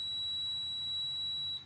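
An eddy current tube testing instrument sounds a steady, piercing electronic alarm tone that holds continuously and then cuts off near the end, over a low background hum.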